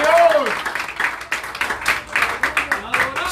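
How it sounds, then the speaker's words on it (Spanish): Church congregation clapping for Christ during a Spanish-language service, quick rhythmic handclaps in a steady pattern, with a sustained voice or sung note at the start and voices mixed in. "un aplauso al Cristo de la gloria"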